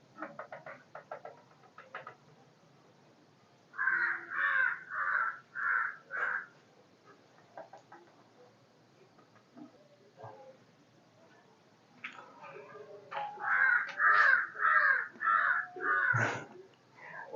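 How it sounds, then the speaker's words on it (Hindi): Crow cawing loudly outdoors in two bursts of four to six harsh, evenly spaced caws, with faint clicks and rustles between them. "ये रोज रोज ये कौवा कहाँ से आ जाता है और रोज इसी टाइम पे वो चिल्लाना शुरू करता है।"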